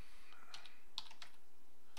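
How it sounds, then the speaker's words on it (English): Typing on a computer keyboard, several light irregular key clicks over a steady background hum, close and fairly quiet, with no talking. "my typing is off tonight"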